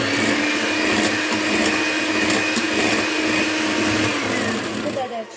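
An electric hand mixer whirs steadily through coffee cake batter with baking powder added, a loud continuous motor drone running the whole time with no pauses.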